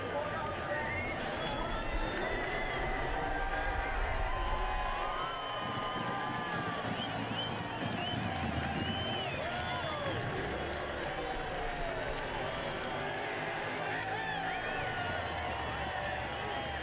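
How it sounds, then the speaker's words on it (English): Dense crowd roar from the stands at the 2023 NASCAR Cup Series Championship race, a continuous wash of cheering and shouting that swells and holds steady throughout, with some voices and arena noise mixed in. "listen to the crowd"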